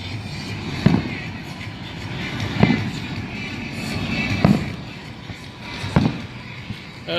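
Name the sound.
fireworks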